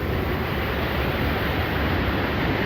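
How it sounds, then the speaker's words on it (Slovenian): A waterfall on the Krupa river roars as a steady, dense broadband rush of falling water with no pauses, close and loud, no voices. "En lepših slapov na reki Krupi."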